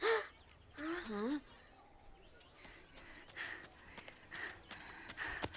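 Crows caw over a crop field that birds are eating, a few harsh, wavering calls up close at the start followed by softer scattered bird noises and rustling at a lower level.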